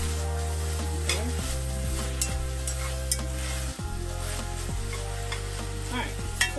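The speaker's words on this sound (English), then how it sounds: "so I'm going to give my veggies a stir" Vegetables sizzle and crackle as they are stirred in a Dutch oven, with steady frying hiss and a few clear scrapes and knocks of the spoon against the pot, close and fairly loud with no talking.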